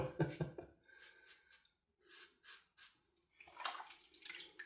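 Water from a tap running in short bursts while a Rockwell 6S safety razor is rinsed, faint and close, with splashing gushes that start and stop, leaving brief quiet gaps.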